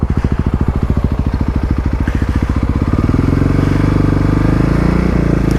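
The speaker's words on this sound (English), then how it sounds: "I'll show you guys here my stationary revving test." Kawasaki KLX351 dirt bike held stationary and revved, its single-cylinder engine pulsing in rapid regular firing beats that climb to a steady, louder high-rev drone, close and loud with no talk.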